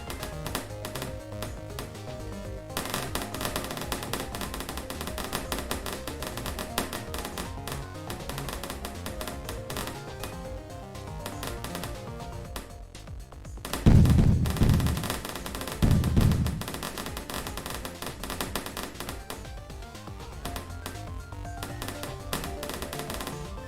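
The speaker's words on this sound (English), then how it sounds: "Hope the explosions don't trigger PTSD in anyone. Sounds like a war zone out there." Dense, continuous gunfire crackles throughout Bloons TD Arcade gameplay, with two louder, booming explosion bursts landing in quick succession near the middle.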